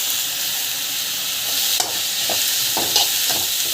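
Food sautés in a pan seasoned with salt and chaat masala, a continuous close sizzle and hiss with a few scraping stirs of the spoon breaking through near the end, with no voices.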